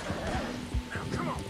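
Horse hooves gallop in uneven thuds with a short whinny, from a horse ridden in the video game Red Dead Redemption 2, heard alongside steady game background noise.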